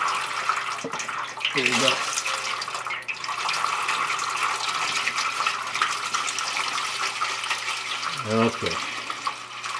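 Transmission fluid drains from a 2018 Chevrolet Silverado 8-speed, a steady pouring, splashing stream heard up close throughout, with someone speaking briefly over it.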